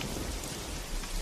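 Heavy rain pours in a dense, continuous roar, with low rumbling of thunder running beneath the downpour.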